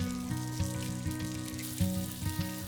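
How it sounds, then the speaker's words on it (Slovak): Vegan sausages fry on a ridged grill pan with a constant close sizzle and crackle, dense spattering popping in bursts over a steady frying hiss, no talking. "Párky opekáme na mriežkovej grilovacej panvici, aby sme mali takú nádhernú štruktúru pri servírovaní."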